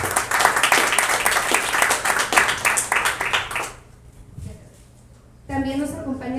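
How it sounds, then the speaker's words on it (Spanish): An audience at a Spanish-language science talk applauds warmly for several seconds, a dense, close patter of many hands that fades out before a voice resumes speaking. "Un aplauso a la doctora Alexandra."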